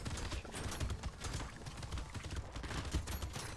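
Rapid, dense bursts of explosive fire from a nuke launcher in the game Brotato, thumping impacts piling on one another in a continuous fusillade with faint high pings, no talk.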